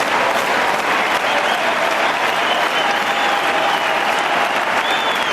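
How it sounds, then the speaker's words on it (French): A tennis crowd at Roland Garros applauds steadily, a dense wash of clapping that stays loud and even from start to finish, with no voices standing out. "Et le public qui rend hommage aussi à l'effort et à l'envie de Youzhny"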